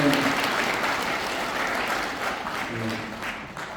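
Audience applause at a Korean hometown association humanities lecture, steady dense clapping from a crowd in a hall, sustained and fairly loud throughout with a little background murmur.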